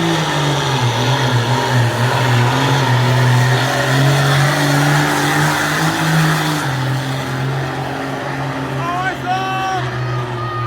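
An exhibition farm tractor's turbocharged engine holds a loud, sustained high-rev drone at a truck pull, the steady roar easing slightly before a short whistle-like rise near the end, with voices in the crowd mixed in.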